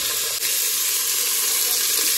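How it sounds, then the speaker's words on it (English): Onions fry in a pan with a loud, steady hiss and sizzle that runs unbroken, close by and without talk. "and then now I'm frying the onions"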